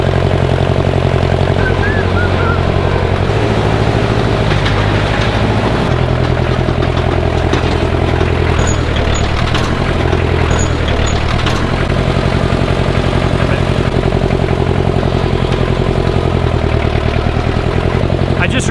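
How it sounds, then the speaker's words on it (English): Tractor engine running steadily and loudly nearby while scraping out a shed, a constant low diesel drone with faint scraping and clanks, and a voice talking at times. "I'll get a scrape tractor and then hopefully it'll be clean"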